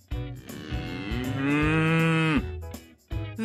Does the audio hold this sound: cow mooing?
yes